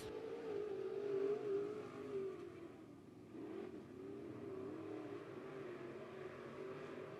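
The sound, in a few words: dirt track race cars racing down the front stretch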